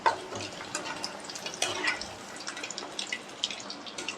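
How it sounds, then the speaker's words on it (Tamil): Chicken pieces are stirred in hot oil in a pan while making street-style chicken fried rice, giving a steady sizzle with scraping and stirring noises close by and no talk. "இப்போது சிக்கன் பீசஸ் போட்டதுக்கப்புறம் ஒரு மூணு நாலு நிமிஷம் கழிச்சிட்டு அதுக்கப்புறம் இந்த மாதிரி கிளறி விட்டுக்கோங்க"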